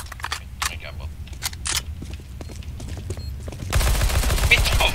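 Video game gunfire in bursts of sharp cracks and rapid automatic shots, loud and close, with a dense fusillade building near the end; voices talk between the shots.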